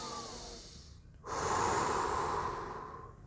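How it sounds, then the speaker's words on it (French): Slow, deep belly breathing up close: a soft airy exhale fades out, then after a short pause a long, loud inhale follows, alone with no talking. "Ce n'est pas une respiration avec la poitrine, mais avec le ventre."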